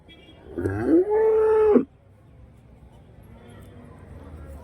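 A Holstein Friesian dairy cow at a cattle market in Karimangalam, Dharmapuri district, lets out a single loud, close moo lasting about a second, followed by quieter market background.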